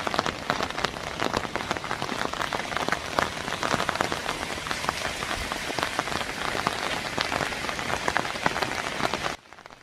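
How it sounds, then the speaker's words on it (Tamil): Steady rain pouring outside a hotel, a dense, loud hiss of drops striking surfaces that holds for nearly ten seconds before dropping off abruptly at the end, with no voices. "நம்ம ஹோட்டலுக்கு வெளியில் மழை வேறு பெஞ்சிட்டு இருந்ததுனால"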